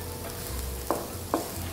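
Scallions tossed into a pan of golden fried garlic for Tây Ninh salt-roasted shrimp, with a steady low sizzle and three short scraping stirs spaced evenly, close up and without talk.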